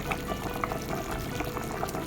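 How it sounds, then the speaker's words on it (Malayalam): Chicken curry boiling hard in a pot, a close, steady bubbling and popping that continues without pause. "നന്നായിട്ട് തിളയ്ക്കുന്നുണ്ട്."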